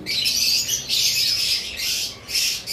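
A white-faced cockatiel breeding pair gives loud, shrill squawks in three or four close bursts, near and harsh, with no talking over them.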